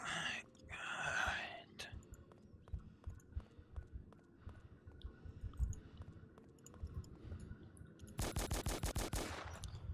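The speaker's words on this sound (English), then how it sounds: "Shots pretty close." Gunfire crackles close by in the video game Deadmist 2, with scattered shots and then a rapid automatic burst near the end, mixed with quiet game ambience and faint breathing.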